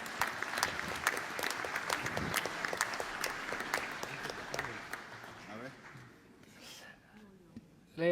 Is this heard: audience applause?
yes